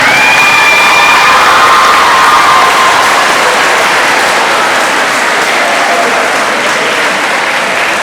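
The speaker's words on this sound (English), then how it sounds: "how about a round of applause for all your parents and guardians that are here in this room?" A room full of people at a middle school awards day applauds and cheers for the parents and guardians, loud sustained clapping with whoops and children's shouts throughout.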